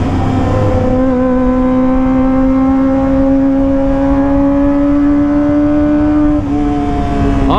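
A Kawasaki ZX25R motorcycle with a loud aftermarket exhaust ridden through narrow alleys, its high-revving engine whining steadily and close, pitch rising slowly with a brief dip near the end.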